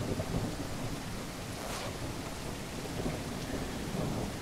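Steady heavy rain hisses and rumbles continuously in the survival video game No One Survived, with a low rolling thunder undertone filling the background evenly and no voices.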